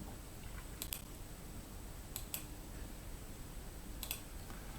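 Sharp, faint clicks from a computer mouse on an accounting portal, coming in small pairs and clusters a second or two apart over steady room hiss.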